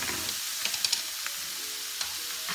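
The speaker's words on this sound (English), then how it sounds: "fry them on the big pan with the oil already from the bacon" Drained potatoes frying in leftover bacon fat in a big pan, a close steady sizzle with a few sharp crackles and spits.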